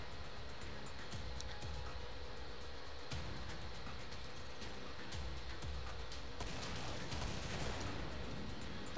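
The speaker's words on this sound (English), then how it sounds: "it's not a pump, but we can rapid fire this shit" Rapid shotgun fire in the Killing Floor video game, a dense continuous barrage of shots layered over constant game noise, loud and busy throughout with no clear gaps.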